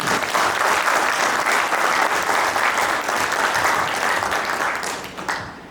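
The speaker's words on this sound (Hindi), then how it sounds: "तो एक तालियां हो जाए" An audience claps steadily for about five seconds at a corporate event, a dense wash of applause from many hands that tapers off at the end.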